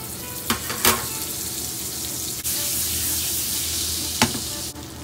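Butter melting in a hot pan reheated after searing halal wagyu steak, a steady broad sizzle running throughout with a few sharp clicks and knocks from the pan.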